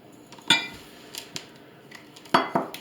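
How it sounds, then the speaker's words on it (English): Washing soda poured into a measuring cup while making homemade dishwasher pods: a few sharp clinks and rattles of powder and utensil against the cup at moderate loudness, with quieter handling sounds between them. "put 1 cup of the washing soda in my measuring cup here"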